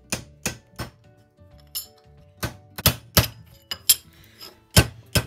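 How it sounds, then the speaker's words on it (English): A hammer strikes a chisel against fused tin bronze metal, giving sharp, close metallic knocks, about a dozen irregular blows separated by short pauses. "Maybe I'll be able to use that and a chisel to separate a little."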